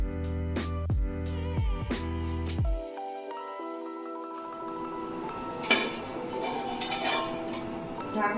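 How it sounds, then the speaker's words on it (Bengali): A metal lid lifted off a cooking pot of bitter gourd simmering in water, giving a few clinks and clanks early on, then a quieter wash of bubbling and kitchen clatter with no talking. "ঢাকনাটা খুলে দেখি এটা সিদ্ধ হয়েছে নাকি উচ্ছেগুলো"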